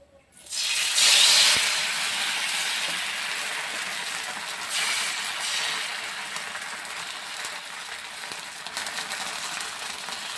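Mangalore-style neer dosa batter poured onto a hot griddle on a gas stove erupts in a loud, sudden hiss that eases into a steady close sizzle lasting to the end.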